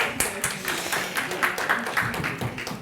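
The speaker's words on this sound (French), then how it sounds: "On peut vous applaudir." Audience applause at a corporate round-table event as a guest is called on stage, a brief, modest patter of scattered clapping heard at moderate distance, fairly quiet and short.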